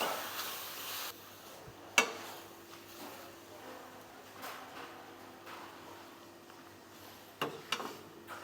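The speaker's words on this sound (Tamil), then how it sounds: "மேரினேட் பண்ண சிக்கனை வந்து ஆட் பண்ணி நல்லா வதக்க போகிறோம்" Marinated chicken pieces sauté in a pan at a low, steady sizzle, with a few sharp clinks and scrapes of a spatula against the metal rim and no talking.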